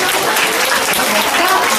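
A church congregation applauds at a Korean Sunday service, a dense, loud wash of clapping filling the whole moment.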